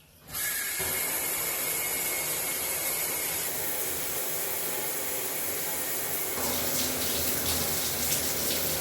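A cold shower runs steadily in a bathroom, water spraying and splashing loudly and continuously, with a shift in the spray's tone partway through as the flow or position changes.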